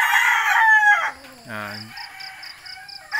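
A broodstag rooster crows once nearby, loud and close, with clucking and other fowl sounds around it and a voice briefly under the call.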